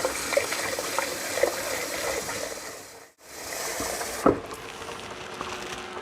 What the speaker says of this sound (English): we just pour off slowly until we start seeing those seeds at the bottom.